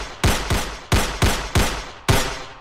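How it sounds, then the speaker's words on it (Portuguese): Six sharp gunshot-like bangs in an uneven series, each a hard broadband crack followed by a short decaying tail, loud and close with no talking, played as a sound effect. "vocês conseguem fazer um efeito sonoro de som e de tiro bem"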